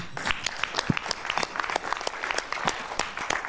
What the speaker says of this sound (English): I think you owe yourself a round of applause.